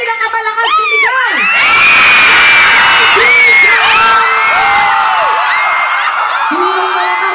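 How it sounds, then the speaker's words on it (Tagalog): A large crowd of fans screams, cheers and whoops at a celebrity fan event with Alex Gonzaga and Mikee Morada. High children's shrieks ride over a loud, continuous roar that swells and stays near for the whole stretch. "Sino ang pinakamalakas sumigaw?"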